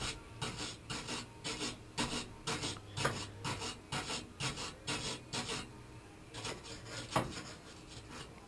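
Wire brushing of metal parts being cleaned for welding during a 1970 Chevy Impala Custom restoration, heard as a run of quick rhythmic rasping strokes, close and fairly faint, with no talk.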